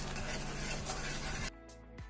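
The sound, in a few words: spices (turmeric, coriander, cumin, chilli powder) frying in a pan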